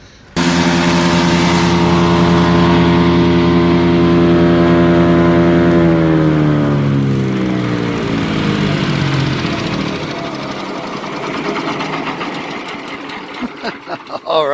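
A Power King chipper shredder with a 14 HP Kohler CH440 electric-start engine runs loud and steady while chipping hard white oak, its drone dropping in pitch as the load bogs it down, then tapering off near the end.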